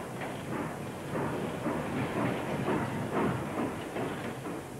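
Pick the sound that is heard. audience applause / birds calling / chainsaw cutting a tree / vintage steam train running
vintage steam train running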